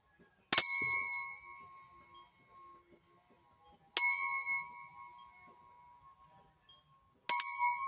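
A bell rings three times, each a bright metallic strike with a long ringing tone that slowly fades, spaced a few seconds apart in a quiet room.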